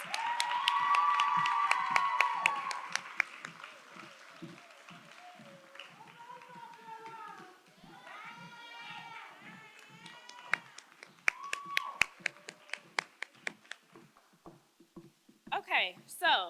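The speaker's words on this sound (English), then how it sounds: "So let's give a round of applause to all the contestants." Audience clapping for contestants at a beauty pageant, loud at first then thinning into scattered claps and taps under music and talk, with a short burst near the end.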